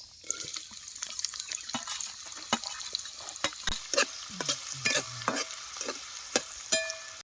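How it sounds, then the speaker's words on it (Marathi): Finely chopped onion and cumin sizzle in hot oil for chicken shorba, with a soft continuous fry broken by sharp clinks and scrapes of a spoon stirring the pan. "आता ही बारीक चिरलेला कांदा टाकतो"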